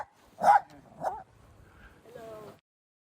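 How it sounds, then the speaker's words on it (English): A 14-year-old dog gives two short, close barks followed by a softer whimpering whine during a winter snowstorm in New York City. "Snowy's kind of an appropriate name for a dog today."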